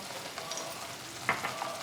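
Ginger-garlic paste, pepper powder and roasted cumin powder frying in a pan for a Hyderabad-style paneer curry, a soft, close sizzle with a few light spoon clicks and scrapes.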